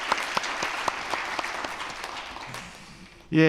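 A church congregation claps together for its parking volunteers at a snowy-day Sunday afternoon service, even and sustained at moderate volume, then a louder voice cuts in at the very end.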